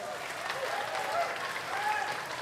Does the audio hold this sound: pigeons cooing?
no